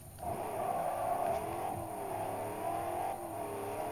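A 1000HP 1992 Ford Escort with all-wheel drive in Forza Horizon 2, its engine droning and revving steadily during laps, with pitch rising and falling through gear changes at moderate loudness.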